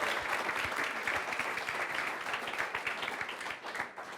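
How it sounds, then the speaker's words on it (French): An audience applauding on stage at a business event, brisk clapping from a crowd that holds steady, then thins slightly toward the end, with no speech. "Un peu d'applaudissements pour eux."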